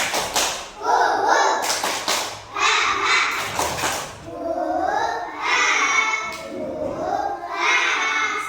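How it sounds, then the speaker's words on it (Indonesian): Preschool children clap in a classroom, with sharp bursts of group claps in short rhythmic patterns alternating with children chanting and talking loudly. "Dua kali tepuk semangat."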